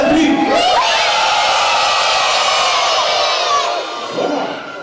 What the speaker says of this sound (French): Est-ce que vous pourriez crier un petit peu plus votre joie?